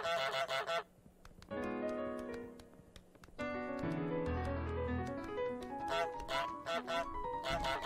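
Cartoonish goose honks from Untitled Goose Game, a few loud nasal blasts at the start and end with harmonic musical game tones in between, played alone with no talk.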